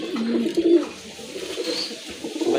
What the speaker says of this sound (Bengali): ভালো মানের এক জোড়া কবুতর